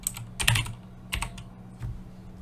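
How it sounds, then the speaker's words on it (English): Computer keyboard typing in a software tutorial setting: a few quick clusters of key clicks, close and fairly crisp, with short pauses between bursts and no talking. "we're gonna type in here"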